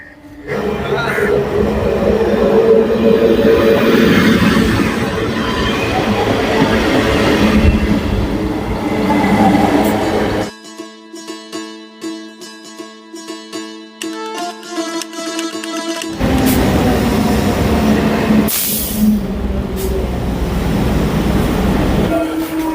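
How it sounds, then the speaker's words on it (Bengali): A Sealdah–Kalyani Simanta local train rumbles loudly into the platform at Agarpara station, dropping to a quieter stretch of clanking and station noise before the heavy rolling roar returns. "আমাদের ট্রেন ঢুকছে শিয়ালদাহ কল্যাণী সীমান্ত লোকাল"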